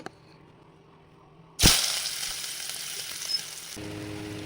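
Chowmein hits hot refined oil in a wok with a sudden loud sizzle after near silence, then settles into a steady crackle that fades.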